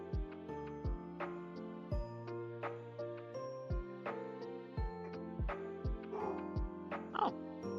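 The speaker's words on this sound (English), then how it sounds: "My dog is barking." A pet dog barks in short repeated yips and bow-wows indoors, a dozen or so quick barks in an uneven rhythm, fairly close but quiet, with faint jingling between them and no talking.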